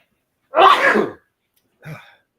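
Someone sneezes once, a loud close burst, followed a moment later by a short quieter sniff or breath.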